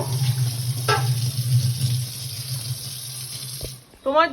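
Water runs steadily from a kitchen tap for about four seconds, a constant broadband hiss with a low hum beneath, then cuts off near the end as a brief voice is heard.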